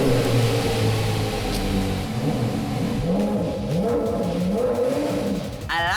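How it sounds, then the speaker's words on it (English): A V10 supercar engine revs and rumbles in a cabin, pitch rising and falling in repeated swells over a constant loud drone, with no one speaking. "this is the most unique engine sound"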